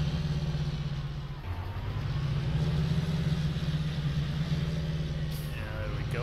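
A video-game truck engine rumbling steadily at low revs while reversing in a farm roleplay, a continuous near drone with a brief dip and a faint high hiss near the end.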